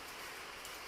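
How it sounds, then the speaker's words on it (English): Steady patter of rain drumming on a roof, a dense even hiss of drops with no voices, fairly quiet and continuous. "I do apologise, that's the rain on the roof."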